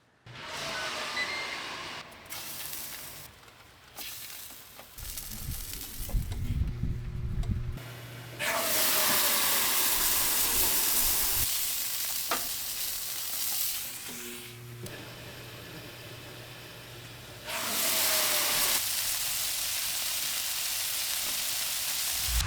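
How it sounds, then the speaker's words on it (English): Chorizo sizzles on a preheated Ninja Woodfire grill, a bright steady hiss that swells and fades as the meat is moved, with scraping and clatter between the sizzling stretches. "The first step we're gonna do is we're gonna grill off the chorizo"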